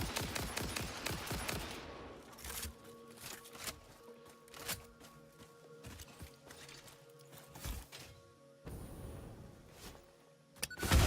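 Gunfire in the video game Satisfactory: a rapid burst of shots at the start, then scattered sharp reports over humming machinery, fairly near and moderately loud, with no talk.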